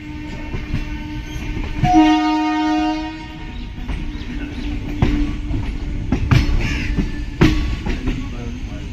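A passing train on a winter morning sounds a long, loud horn blast near the start, then its wagons rattle and clack past close by over steady rumble.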